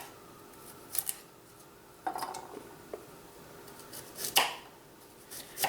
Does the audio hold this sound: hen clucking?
no